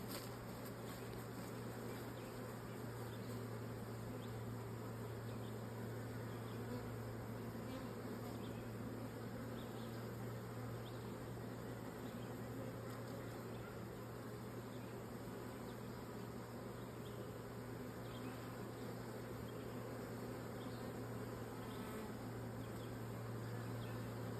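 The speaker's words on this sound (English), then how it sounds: "I'll just watch them bees work." Steady, dense buzzing of many honey bees at a hive, constant and close, with a low droning hum running underneath throughout and no voices.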